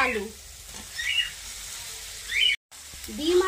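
Eggs and potatoes frying in oil with spice masala in a pan, a steady close sizzle under someone speaking Bengali, with a brief dropout near the end.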